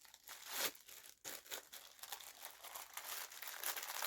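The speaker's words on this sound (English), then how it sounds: "I can't actually open the bag. Just rip it." A tightly sealed plastic bag holding Sega SG-1000 and Mark III items is crinkled and torn open by hand, a run of sharp crackling rips and rustles close up with no talking.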